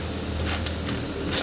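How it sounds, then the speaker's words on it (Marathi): Dal frying in hot oil in a pan for puffed rice chivda gives off a steady, close hiss of sizzling with small crackling flares, no talking over it. "इथे आता आपल्याला डाळवं पण तळून घ्यायचं आहे"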